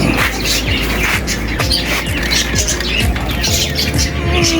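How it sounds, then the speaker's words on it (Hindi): Outdoor bird calls, with a crow among them, near a home garden with caged hens; repeated harsh caws and chirps sound steadily over a constant background hum and rustle. "हाँ कौवे भाई ये रहा।"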